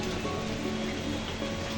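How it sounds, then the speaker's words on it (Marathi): Steady hiss of rain falling, a constant even wash of sound with a low hum underneath and no voices. "तर हा असा पाऊस यायला लागला आहे"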